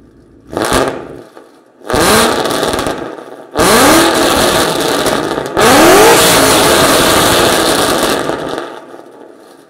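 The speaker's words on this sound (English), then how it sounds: "let's get some rev clips right here with this new setup and see how she sounds" A car engine revving in short bursts: a quick blip, then three long loud revs that climb and hold before dropping back to idle, close to the microphone and with no voices.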